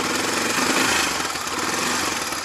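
An engine runs steadily after a repair, close and loud, with a rough, rapid mechanical chatter and no pauses or speech.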